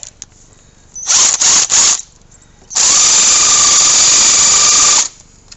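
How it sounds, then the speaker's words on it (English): A power driver tightens a hose clamp on an oil catch can hose on a 2018 Ford F150 EcoBoost engine: a short, stuttering whir, a pause, then one steady, loud whine lasting about two seconds. "Now I just gotta secure the hose clamp."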